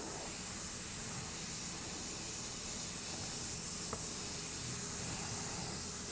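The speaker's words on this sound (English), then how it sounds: "so now I'm going to mist this whole area" A spray bottle mists a work area with a steady, close hiss that runs unbroken throughout, no voices.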